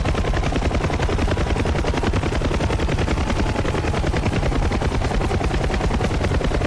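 Helicopter rotors turning during an engine-off autorotation in the DCS World flight simulator, a loud, steady rapid chopping thump that fills the whole stretch without a break.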